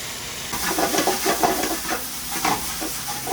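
Onions caramelizing in a pan give a steady close sizzle that starts abruptly, with crackling pops and soft stirring scrapes throughout.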